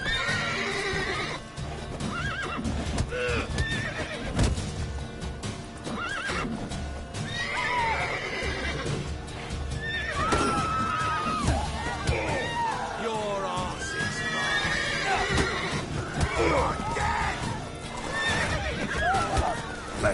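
Horses in the video game Witcher 3 whinny and snort repeatedly over clip-clopping hooves, with faint crowd murmur in the background.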